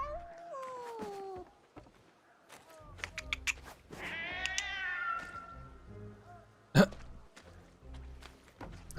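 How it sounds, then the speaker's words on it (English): Cat meowing in a video game set in a World War I officers' quarters, a series of drawn-out mews over ambient game sound and a brief sharp noise, with some voice nearby. "It's a cat."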